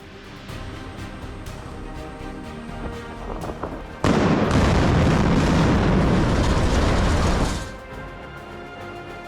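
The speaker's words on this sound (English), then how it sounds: "With a thunderous explosion, a highway bridge in Germany transformed into a fireworks show of steel and concrete in a spectacular demolition." A highway bridge of steel and concrete in Germany is brought down by demolition charges: a sudden massive blast erupts into several seconds of loud, roaring rumble and crackle, then subsides into lower debris noise.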